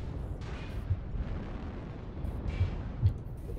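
Artillery strike explosions in Mechwarrior Online rumble as low, muffled booms under a constant heavy mech hum, a few distinct thumps rising from the steady drone.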